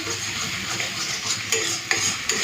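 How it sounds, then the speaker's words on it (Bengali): Ridge gourd paste frying and being stirred in a pan, with a steady close sizzle and occasional sharp scrapes and clinks of a spatula against the pan. "চলুন একটুখানি সময় নিয়ে ঝিঙেটাকে ভালো করে ভেজে নিই"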